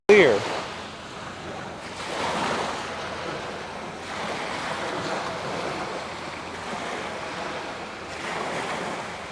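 Sea waves washing onto a clear-water beach in the seaside suburb of Glyfada, Greece, a steady rolling surf with swells peaking every few seconds, mixed with wind noise on the microphone.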